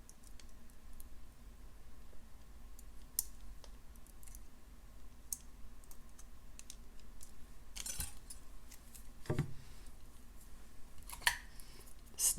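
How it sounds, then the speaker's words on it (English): Jewelry wire being wrapped around a loop with slim pliers for a carnelian and amethyst necklace: faint, scattered metallic clicks and small scrapes over a quiet room hum, no talking. "Grab the loop with your skinny pliers and do a couple of wraps."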